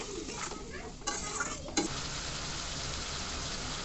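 Spices fry in a pan just after water is added for a vegetarian bean, eggplant and potato curry, giving a dense, close hiss with a few brief clinks of a utensil, steady and without speech.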